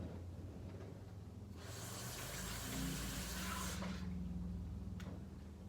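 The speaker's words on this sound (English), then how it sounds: "First, let's wash our hands because we're gonna be making food." Running tap water splashes steadily into a sink during handwashing before making butter, a broad rushing hiss that swells for about two seconds amid a low background hum.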